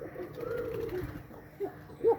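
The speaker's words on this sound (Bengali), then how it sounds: "ডাকের কবুতর সব।" Pigeons cooing in a backyard pigeon loft with young birds, a soft low rolling coo rising and falling over a couple of seconds, followed by a brief louder coo near the end, fairly close but quiet.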